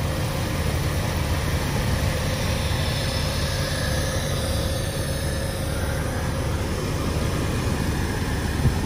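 A 2002 Jeep Wrangler 4WD with the 4.0L engine idles steadily at close range, a smooth, even rumble that holds at one level for the whole stretch with no voices over it.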